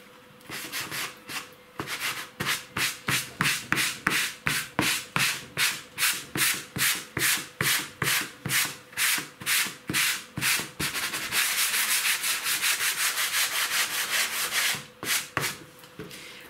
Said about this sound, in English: you just saw me do some distressing again on top of that with my medium grit sand block